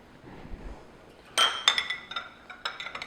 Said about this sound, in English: And I'm just using a wire whisk.